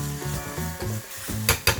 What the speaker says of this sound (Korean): 파가 볶아지면 양파를 넣고 볶아주세요